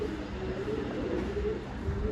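Pigeons coo softly in low, rolling murmurs that run steadily throughout, set in a pigeon loft by a tower with no talk over them.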